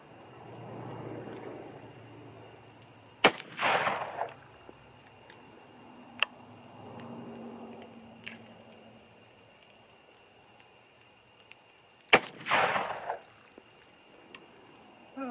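Two sharp rifle shots fired at a target group, spaced about nine seconds apart, each a loud crack with a brief ringing tail, over quiet outdoor background.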